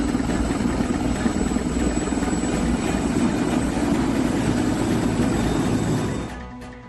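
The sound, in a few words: helicopter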